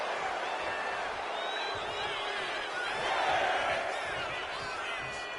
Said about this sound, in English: And Lyra Valkyria is revving this crowd up.